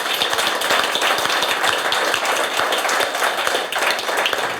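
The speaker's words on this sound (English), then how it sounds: "I want to have a great applause for everybody in the room for coming here." Audience in a room at a live metaverse event breaks into steady applause, dense clapping that stays loud and even for a few seconds with no voices standing out.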